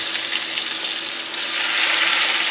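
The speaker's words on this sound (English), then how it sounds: "Let it sizzle." Meat searing in a hot oiled skillet, a steady loud hiss and crackle of sizzling fat close up, with no talking.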